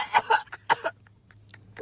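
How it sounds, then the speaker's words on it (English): A person coughs hard after smoking, several sharp harsh bursts close up in quick succession, trailing off into a few quieter hacks. "I heard that cough loud as fuck"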